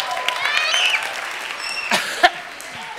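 Children at a church camp give a short round of applause, a brief scattered patter of small hands with excited voices and shouts mixed in, close by.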